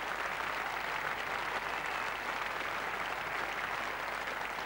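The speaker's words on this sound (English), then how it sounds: "Getting a great reception here from what's just about a full house now." A near-capacity crowd at the Oval applauds steadily through a 1987 England v Pakistan Test match, a dense, continuous wash of clapping from a large stadium audience with no break in the sound.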